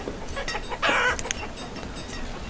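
Chickens clucking in the village-building game Banished, a brief burst of farmyard clucks rising over a steady ambient bed, with short clucks and calls scattered around it, no voices.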